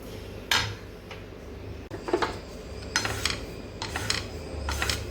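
Sesame seeds roast in a pan over a low gas flame, stirred with repeated scraping and light metallic clinks against the pan, close and fairly quiet.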